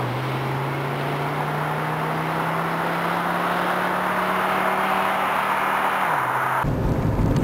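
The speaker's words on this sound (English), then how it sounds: "even part throttle acceleration at about half throttle opening is still very, very spirited" A Mercedes-Benz 300 SD diesel accelerating at about half throttle, its steady droning engine note rising slowly and evenly for around six seconds before the tone drops sharply near the end, loud and continuous throughout.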